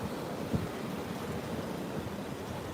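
Ocean waves wash up over lava rocks at a beach on Hawaii's Big Island, a steady broadband rush of surf and wind noise with one brief louder surge near the start.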